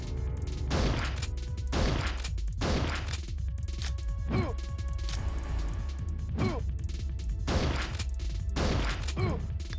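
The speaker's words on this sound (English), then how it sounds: "How the hell is he tanking so many shotgun shots" Shotgun blasts in the video game Resident Evil: Survivor, several loud booming shots spaced a second or two apart over steady game music and ambience.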